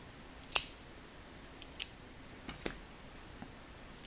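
A few quick scissor snips trim excess yarn from a crocheted letter O, the sharp cuts close and fairly quiet, spaced apart against a near-silent room.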